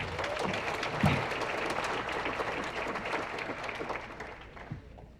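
Audience at a high school sports banquet applauds a coach, a steady crowd clapping sustained for several seconds with a brief louder burst near the start.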